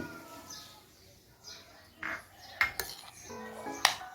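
Fish raita ingredients are mixed in a bowl, with a spoon clinking and scraping against the dish in scattered light taps and a few bright clinks, close and fairly quiet.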